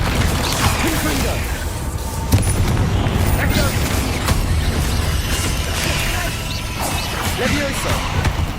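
Confringo explosive spells in Hogwarts Legacy go off as heavy booms and crashes amid constant loud combat noise, one sharp impact standing out early, with character voices mixed in.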